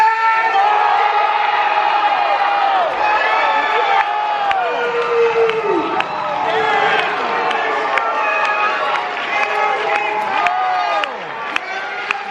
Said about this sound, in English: Crowd's going crazy down here.